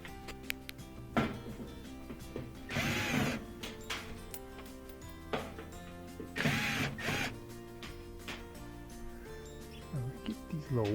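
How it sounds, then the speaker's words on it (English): Phillips head screws being backed out of a secondary panel on a Miele washing machine, with scattered metallic clicks, ratcheting ticks and brief scraping bursts close by over a low hum. "these are just Phillips head screws to get this off"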